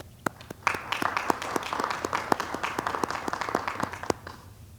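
An audience at a university faculty and staff assembly gives a round of applause, sparse separate claps at first that quickly thicken into steady clapping and then thin out toward the end.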